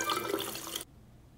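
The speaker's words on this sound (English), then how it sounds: "I'm just going to dip my card in water." Thin Innway tracker card being dipped into water, a brief soft splashing and trickling that stops abruptly, leaving quiet.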